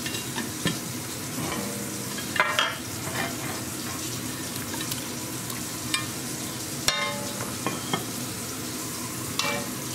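Country-style beef ribs go back into a pot and are stirred with garlic, giving a steady sizzle with scraping and clinking of a utensil against the pot, close and fairly loud, no talking.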